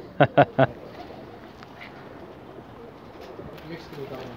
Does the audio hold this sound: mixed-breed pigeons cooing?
yes